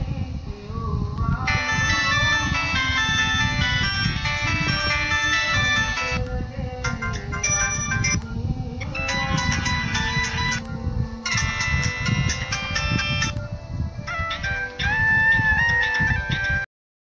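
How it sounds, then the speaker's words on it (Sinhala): A ringtone plays from the small speaker of a Samsung B110E phone after it fell into water. The bright, tinny electronic melody runs continuously for about sixteen seconds in repeating phrases with brief gaps, loud and close with no talking. "රින් ටෝන් එකක් දාලා බලමු."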